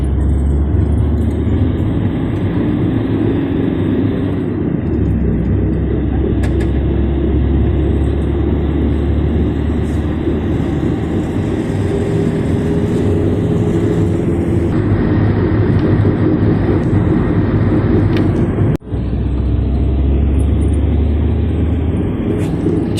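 Inside a taxi heading toward Cape Town, a constant low road rumble and engine drone fill the cabin, steady and loud throughout with a brief dip near the end, no music and no talk.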